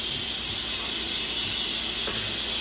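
Steam hisses steadily and loudly from a pot of Dominican-style mussels, a constant broadband rush with no talk over it.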